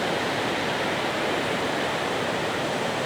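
A waterfall heard from its base in green countryside, a steady broad rushing roar of falling water, continuous and even with no other sounds.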